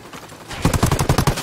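Rapid automatic gunfire erupts in the video game Ghost Recon Wildlands, a loud, close burst of about a dozen quick shots after a short stretch of low background noise.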